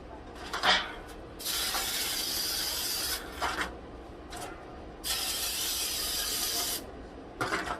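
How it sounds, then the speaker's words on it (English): Cooking spray hisses from a can onto aluminum baking pans in two long bursts, each lasting a second or more, with shorter sprays and light rubbing sounds between them, close by. "so I'm going to spray my pans."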